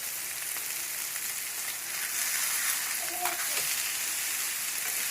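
A fish fillet sizzles steadily on a grill pan, a soft continuous frying hiss with faint crackles and no talking over it.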